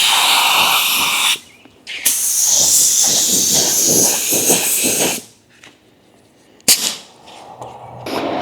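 Spray gun hissing as it lays base coat onto a repaired car bumper for a blend ahead of a pearl coat, in steady loud bursts broken by short pauses, with a final short spray near the end.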